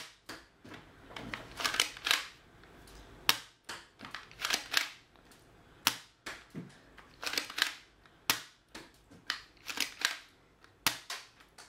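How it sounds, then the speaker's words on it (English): An Air Zone 8 toy dart blaster is repeatedly primed and fired, giving sharp plastic clacks and snaps in an irregular rhythm, close and fairly quiet, with brief pauses between shots. "You can see every time you prime it, the barrel will advance, the turret will advance."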